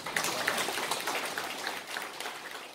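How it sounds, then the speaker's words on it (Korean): Steady applause from a crowd, a dense even patter of clapping that holds at a moderate level throughout without any talk. "여러분들 박수로 환영해 주시기 바랍니다"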